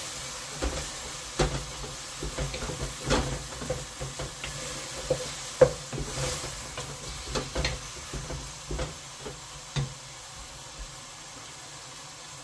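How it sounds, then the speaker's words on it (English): Beef for a steak and kidney pie is stirred in a hot pan, giving a steady low sizzle with scattered scrapes and clicks of the spoon against the pan, fairly quiet and without talk. "Give this a stir."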